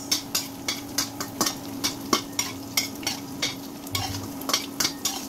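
Salty cured meat frying in cooking oil for miswa, with a low sizzle under rhythmic, regular scrapes and taps of a spatula stirring the pan at close range.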